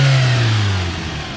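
A Lada 2109 with a fuel-injected engine revs loudly nearby with a steady low drone that gradually falls in pitch as the revving eases off.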